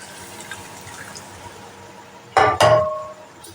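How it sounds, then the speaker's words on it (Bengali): Warm milk poured into a cooked flour mixture while making a sauce for butter garlic potatoes: two short, loud liquid splashes and pours in quick succession over a quiet kitchen background. "এর মধ্যে আমি সামান্য একটু দুধ ব্যবহার করব।"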